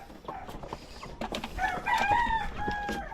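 Hens cluck in short bursts while a rooster crows, close and lively, with scattered farmyard noise.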